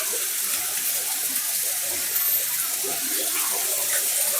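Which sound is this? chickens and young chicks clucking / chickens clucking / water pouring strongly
water pouring strongly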